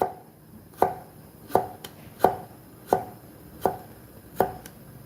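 A knife slices carrot and cucumber on a cutting board in seven sharp, evenly spaced chops, each a crisp close tap with a short ring-off, alone without talk.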